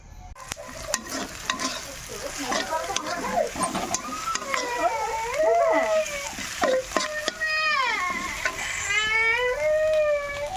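Maggi noodles cooking in oil in a pan, a continuous close sizzle with repeated stirring scrapes, while a baby cries loudly nearby and voices are heard in the background.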